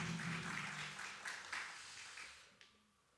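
A church congregation at a Sunday morning service claps for a deacon, a short, fairly faint burst of applause that thins out and fades after a couple of seconds.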